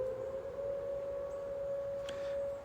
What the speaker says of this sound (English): Yeah, I thought the sirens weren't going to go off.